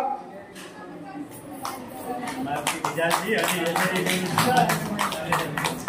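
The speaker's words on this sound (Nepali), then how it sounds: "ताली बजाएर सबैले ताली बजाउनु है," Scattered hand clapping from a crowd at a community convention's award ceremony, building into fuller applause, with a voice speaking over it.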